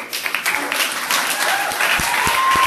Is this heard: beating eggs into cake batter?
no